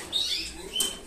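Brief fluttering of a canary's small wings flapping close by as it is caught, with a faint high chirp, over in about a second.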